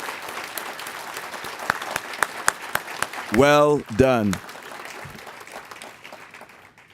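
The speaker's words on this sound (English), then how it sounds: "We should give you a round of applause." Applause from an audience honoring award recipients at a presidents' excellence awards ceremony, a steady crowd clapping throughout with a brief spoken voice in the middle.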